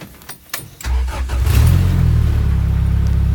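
A turbocharged Honda Civic on stock injectors starts up with a few sharp bursts, then revs and settles into a loud, steady idle with a pulsing exhaust note.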